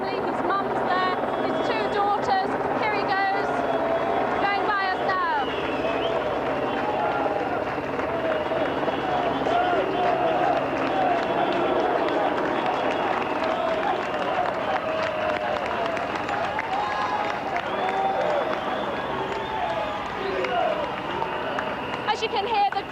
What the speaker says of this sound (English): as you can hear, the crowd's absolutely going mad